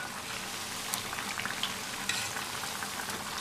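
Rava bondas deep-fry in oil while being gently turned, a steady bubbling sizzle dotted with quick crackles and light stirring clicks, moderately quiet and continuous.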